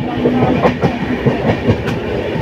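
The Amarnath Express rolls into NJP station in the rain, a loud close clickety-clack of wheels over rail joints in quick repeating beats over a dense rumbling wash.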